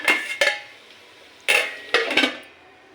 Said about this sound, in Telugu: అల్లం వెల్లుల్లి అనేది పచ్చివాసన పోయేంత వరకు ఫ్రై చేసుకోవాలి ఇలా బాగా మిక్స్ చేసేసుకుని మూత అనేది పెట్టేసుకుందాం